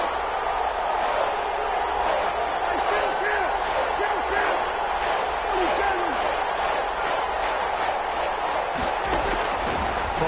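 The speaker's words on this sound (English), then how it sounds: "the crowd getting into it as we come up on a big 3rd down" Stadium crowd in a football video game swelling as a big third down approaches, a steady roar of cheering with scattered thuds and slaps, loud and continuous beneath game audio.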